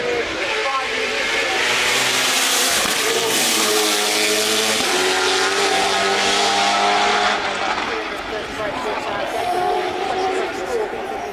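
A race car with a 6-speed sequential gearbox climbs through the gears at the Goodwood Festival of Speed, its engine rising and dropping in pitch with each upshift. The car is loud and steady throughout, with a commentator talking over it.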